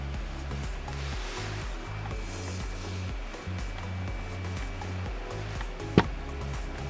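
A small handheld fan drying false silk eyelashes during editorial makeup application, giving a steady, close motor whir with a low humming drone that runs continuously without pause.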